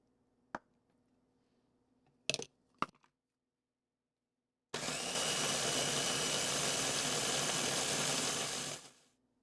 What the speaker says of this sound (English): and then we'll blend again